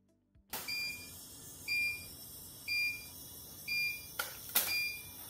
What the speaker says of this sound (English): Ending mode A will immediately vent the steam, sound a beep, and display end.